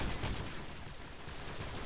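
Sustained spray of automatic gunfire in the shooter game Modern Warfare 3, a dense, loud burst of rapid shots filling the whole moment without pause.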